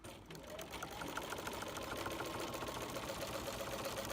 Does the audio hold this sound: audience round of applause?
no